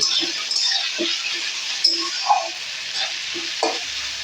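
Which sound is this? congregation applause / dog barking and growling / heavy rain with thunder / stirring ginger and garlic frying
stirring ginger and garlic frying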